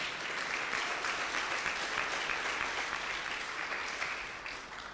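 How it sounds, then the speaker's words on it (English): Audience clapping for carpentry and joinery teachers at a gathering, continuous dense applause from a crowd, fairly distant and even, tapering slightly at the end. "Please stand. Let's clap for you."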